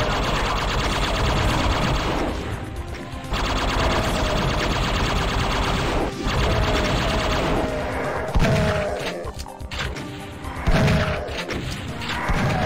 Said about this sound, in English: So those are the chain gunners.